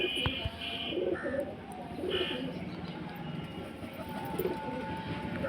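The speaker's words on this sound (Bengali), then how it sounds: "দেখতে পাচ্ছ, চোখের পায়রা, খুব সুন্দর পায়রা আছে" Pigeons in a loft coo and rustle amid steady busy background noise, with a voice murmuring faintly now and then, the birds' soft repeated calls close by.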